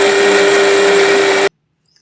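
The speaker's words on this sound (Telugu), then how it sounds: "మిక్సీ జార్ తీసుకొని అందులో పల్లీలు తర్వాత పచ్చిమిర్చి, ఈ పచ్చిమిర్చి రుబ్బిన తర్వాత" A kitchen mixer grinder roars steadily while grinding peanuts and green chillies, a loud, dense whirring hum that holds for over a second before cutting off abruptly into silence.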